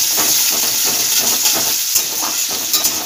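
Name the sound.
chopped onion frying in oil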